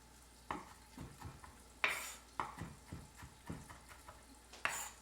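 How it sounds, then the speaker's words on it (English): Meatballs cook in a pan, giving a soft steady sizzle with a few louder pops and stirring scrapes spread through the clip, close and moderately quiet, with no talking. "And my meatballs are actually cooking."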